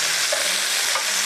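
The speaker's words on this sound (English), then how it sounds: "make sure that you keep enough oil in the pan. You let them brown" Pepper steak meat browning in oil in a pan, giving a brief, steady, bright sizzle that is close and fairly loud, with no talking.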